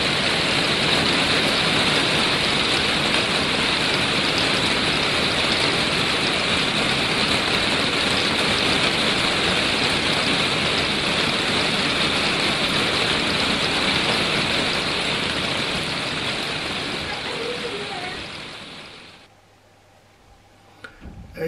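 Steady, heavy rain hisses loudly and continuously for most of the clip, then fades away abruptly near the end, leaving near silence. No voices.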